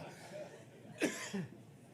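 A single short cough near the middle, close and moderately loud, followed by a smaller throat sound; otherwise a quiet room.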